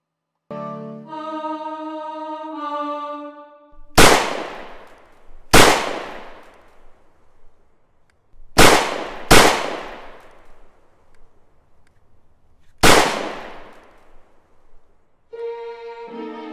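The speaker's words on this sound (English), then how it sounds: "the gunshots at the end of Act 1." Five loud gunshot sound effects from an opera score crack out in a carefully specified irregular rhythm, each ringing briefly, framed by sustained orchestral tones before and after.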